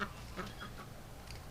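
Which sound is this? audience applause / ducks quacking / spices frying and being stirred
ducks quacking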